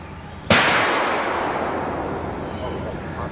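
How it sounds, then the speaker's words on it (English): A single sharp gunshot from an open outdoor shooting range a little way off, cracking suddenly and then rolling away in a long fading echo over a steady background. "there's some gunfire from another one of the open ranges a little further down"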